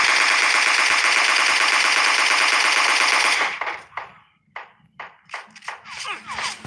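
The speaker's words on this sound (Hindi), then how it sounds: "ऊपर से कोई यहाँ पर गोलियाँ चला रहा है" Sustained automatic gunfire in PUBG Mobile Lite, a dense loud burst lasting several seconds, then giving way to scattered individual shots and pings at varying distances.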